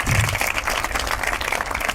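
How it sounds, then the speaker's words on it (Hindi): Audience applause for the rank 2 student, Rajeshwari from Tamil Nadu, at an education results event: a dense, steady wash of clapping throughout, fairly loud and unbroken. "एक बार जोरदार तालियां राजेश्वरी के लिए"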